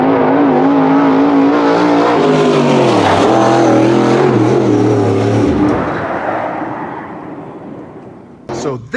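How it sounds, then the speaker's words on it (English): A dirt late model race car engine revs loudly up close, rising and holding in pitch with blips and shifts. It then fades as it winds down, and a few sharp knocks come at the end. "So this is our dirt late model."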